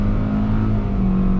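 Steady engine drone from a 2020 Hyundai Venue SE subcompact SUV with a CVT, pulling away from a light on throttle, holding one constant pitch while accelerating, heard from inside the cabin.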